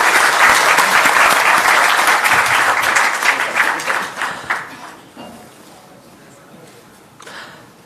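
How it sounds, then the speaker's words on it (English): Audience applause at a tourism travel conclave in Maharashtra: loud, dense clapping from a large crowd for several seconds, then fading to scattered claps and a brief last burst. "I request all of you to please clap for the evening."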